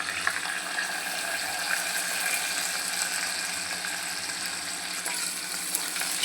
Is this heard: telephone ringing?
no